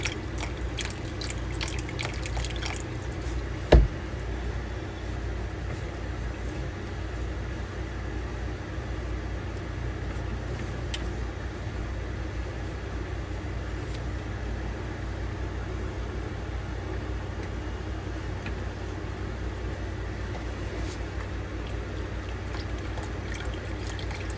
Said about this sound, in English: So we are going to go ahead and add the rest of this broth in.